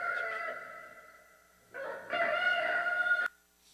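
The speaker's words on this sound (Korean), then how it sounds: "욕심 때문에 주님을 부인한 다음에 우는 닭의 울음소리" A rooster crows up close: a short call fades out, and after a pause a longer, louder cock-a-doodle-doo ends sharply, with no other sounds around it.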